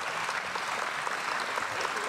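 A debate audience in a hall breaks into sustained applause. The dense, steady clapping fills the whole stretch with no talk.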